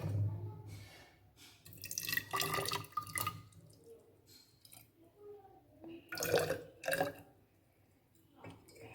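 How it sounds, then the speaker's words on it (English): Water poured into a measuring cylinder during a school lab activity on the water-holding capacity of garden soil, heard as several short bursts of splashing and trickling with quiet pauses between them, close and moderately loud. "Now I am putting the water."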